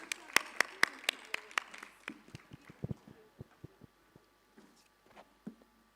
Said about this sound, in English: So a big round of applause and thank you for joining us.